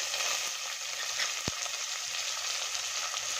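Sliced onion and chopped tomato sizzle steadily in a hot pan for dal khichdi, a continuous close frying hiss with one sharp low knock midway, no talk.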